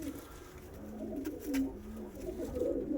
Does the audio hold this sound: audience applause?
no